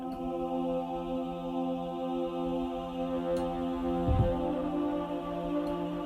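A sustained menacing cinematic choir chord from a sample library, with a gritty saturation-distortion edge, holding steady throughout, with a brief low thump partway through.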